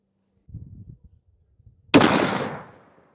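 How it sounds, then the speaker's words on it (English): A single loud, close gunshot from a C. Sharps Arms 1885 rifle fitted with a muzzle brake, a sharp crack followed by a long decaying boom, preceded by faint low rustling. "This thing has got some recoil to it, that is for sure."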